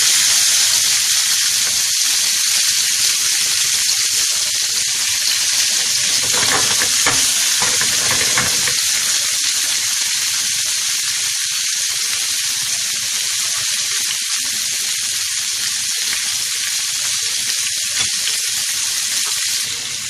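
Chicken sajji sizzles in oil in a pan, a loud, continuous hiss of frying with a brief stretch of stirring and scraping partway through.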